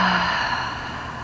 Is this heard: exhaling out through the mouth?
yes